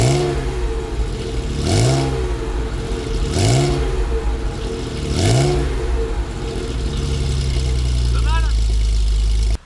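A BMW Alpina E21 C1 with a 170-horsepower six-cylinder engine idles and is revved hard three times in loud, close, evenly spaced blips, each rising and falling, followed by a brief lighter rev.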